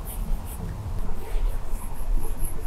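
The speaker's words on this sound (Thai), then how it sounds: "ฟิล์มกระดาษของเรานะคะยังให้เสียงเหมือนตอนที่เราเขียนบนกระดาษจริงๆด้วยแบบนี้ค่ะ" A stylus writes on a paper-like screen protector film on an iPad, giving a continuous scratchy, papery rubbing sound with faint strokes, close and fairly loud.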